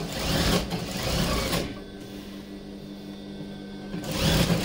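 A sewing machine runs in steady bursts while stitching the frill of a single-frill petticoat, loud and close, with a quieter pause in the middle before the motor picks up again.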